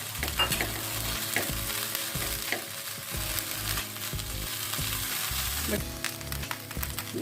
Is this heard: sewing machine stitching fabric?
no